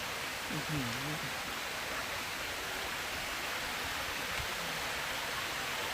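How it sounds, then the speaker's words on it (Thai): A waterfall in a park in Germany gives a steady, full hiss of rushing water that fills the scene without pause, with someone talking briefly over it near the start. "น้ำตกตรงนี้ก็สวยมากมากเลย"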